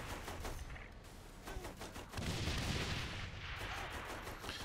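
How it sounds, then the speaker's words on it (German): Grenade launcher fire in the video game Saints Row: The Third, a dense barrage of repeated booming shots and explosions layered over constant broadband combat noise, growing louder and heavier midway, with no talking. "Wir schießen hier mit den Granaten."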